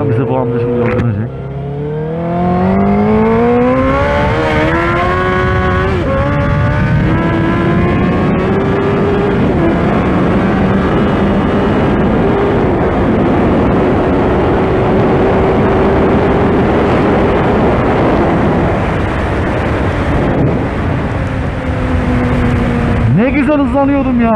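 A car engine pulls away and climbs steadily through the revs, loud and close from inside the cabin, with someone talking over the rising drone.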